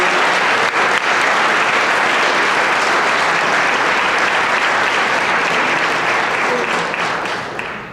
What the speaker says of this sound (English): give them a round of applause for the time answering the question